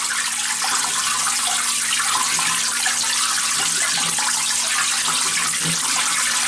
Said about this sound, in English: That should rinse the grains pretty well,